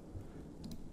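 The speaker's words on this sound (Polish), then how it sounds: "Słychać, że nadchodzi burza, bardzo niedobrze." Rumbling thunder and steady rain from a thunderstorm in Dwarf Fortress, a low continuous roll with hiss on top and a brief brighter crackle near the end, with no voices.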